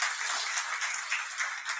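Brief, fairly faint clapping from a small gathered audience at a civil-service exam toppers' felicitation, a short patter of hands without voices.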